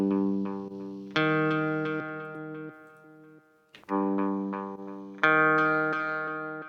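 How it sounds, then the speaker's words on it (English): Guitar chords ring out through Ableton's Cabinet device emulating a 4x12 speaker cab, sustained distorted strums repeating with a brief gap midway, heard alone without talk. "if you pick 4x12, that's going to be emulating a 4-speaker cab where all the speakers are 12 inches each"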